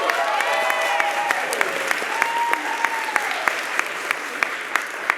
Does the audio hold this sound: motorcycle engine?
no